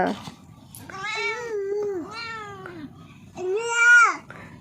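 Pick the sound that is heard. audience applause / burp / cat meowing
cat meowing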